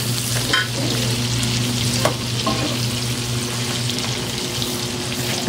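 Green chili for Bicol Express sizzles loudly in a frying pan, a dense continuous hiss with a few brief scrapes of stirring, close up and with no voices.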